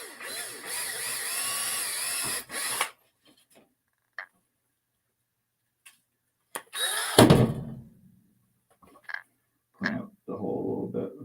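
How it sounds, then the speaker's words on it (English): Power drill boring a smaller hole through a silver coin: a sustained whining drill run, then scattered small knocks and clicks, a second harsh grinding burst and more brief drilling spurts. "Drill that."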